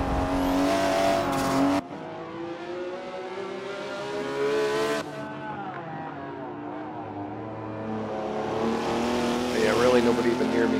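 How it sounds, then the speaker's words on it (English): A race car in a Forza online multiplayer race revs hard and drifts, its engine droning steadily with shifting pitch and a rising squeal of tires toward the end, loud and close, with someone speaking over it. "When I have a good lead like this, sometimes I start drifting because I get bored."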